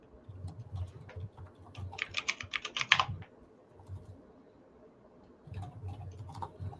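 Typing on a computer keyboard, quiet clusters of key taps with a quick, denser burst in the middle and a few more scattered clicks later, close and soft.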